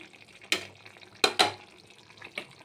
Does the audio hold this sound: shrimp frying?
yes